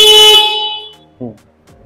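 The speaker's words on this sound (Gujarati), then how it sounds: "અહીંથી હોર્ન વાગશે." A short, bright electronic horn of an Ola electric scooter honks once, then a brief voice follows.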